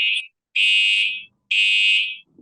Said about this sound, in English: I bet you hear the fire alarm.